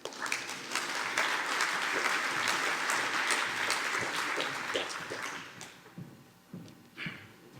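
Audience applause welcoming the Panaxium presenter to the stage at a CDL Super Session, a dense, steady clapping from a large crowd that thins into scattered claps and fades near the end.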